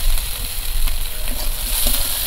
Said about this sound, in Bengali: পেঁয়াজটা একটু ভাজা ভাজা করে নেব আগে